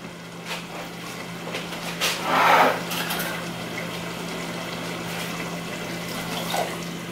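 Tomato sauce being poured into a cooking pot for spaghetti squash gives a brief wet glugging splash, followed by faint kitchen clinks and a steady low hum, with no talking.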